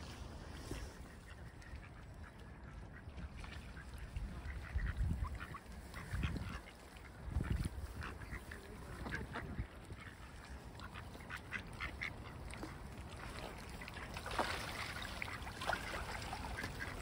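Ducks and swans being hand-fed up close, with steady duck quacking and goose-like honks over a continuous outdoor wash of water and wind.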